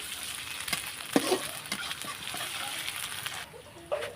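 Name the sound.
ginger garlic paste frying in a pan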